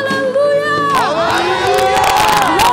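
A large crowd at a church anniversary celebration shouts and cheers together, with many overlapping voices rising and falling loudly in a sustained, jubilant roar.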